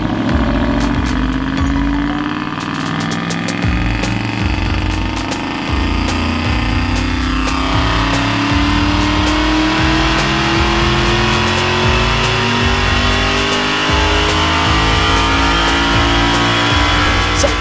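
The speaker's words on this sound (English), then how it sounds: "installed it in the car and run it on the dyno" An Aston Martin Vantage engine revving hard on a dyno, a loud continuous roar climbing steadily in pitch through the gears with a rough, pulsing exhaust note close up.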